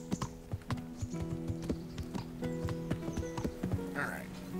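Horse hooves clip-clop in the video game Kingdom Come: Deliverance, a brisk, even train of sharp knocks over a droning musical tone, with a brief whinny-like sound near the end.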